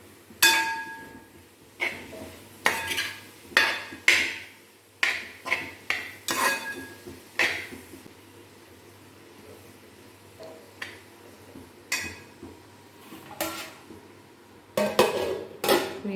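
A spoon stirring cabbage stir-fry in a pan, with a series of close, sharp metallic scrapes and clinks coming in irregular bursts, then a quieter pause before a few final knocks against the pan.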